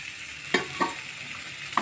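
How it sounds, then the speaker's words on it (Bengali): A spice mix sizzles steadily in a hot pan, close and continuous, with a few scraping stirs of a spatula. "ভালো করে এই মশলাটা একটু ভেজে নিচ্ছি"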